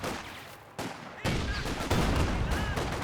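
Rapid gunfire opening up on a mortar pit in Company of Heroes 2, a dense crackling barrage of shots that steps up in loudness and keeps rattling steadily within a busy battle mix.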